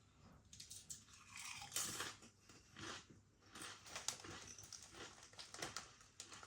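Mackie's pickled onion flavour potato crisps are bitten and chewed close to the mouth, giving quiet, irregular crunches with no talking.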